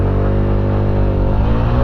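A Honda SH150i scooter engine pulls hard under acceleration, a loud steady drone with harmonic tones climbing gradually, close up and continuous, with no voices over it.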